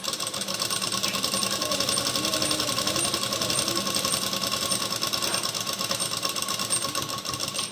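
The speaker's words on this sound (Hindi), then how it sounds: "इसमें डबल सिलाई लगा लेंगे मजबूती के लिए।" A sewing machine runs a steady double line of stitching along a blouse sleeve, its dense rapid needle clatter continuous and close from start to finish with no pauses.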